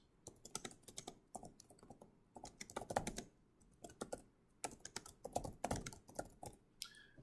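Fingers typing a message on a computer keyboard, a quick, uneven patter of close key clicks in short bursts with a few brief pauses, fairly quiet and heard alone.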